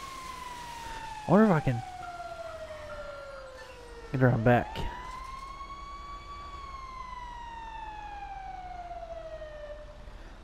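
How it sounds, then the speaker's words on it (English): A wailing vehicle siren in the video game GTA sweeps slowly up and down, loud and continuous through the whole stretch, while someone speaks briefly over it twice. "Turn that siren off."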